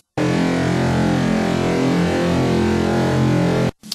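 Resampled robot-style dubstep bass line sample, a dense, distorted and harmonically rich synth bass sounding loud and continuous for about three and a half seconds before cutting off abruptly.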